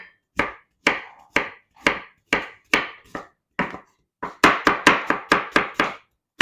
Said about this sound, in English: I'm just gonna slice them up like that.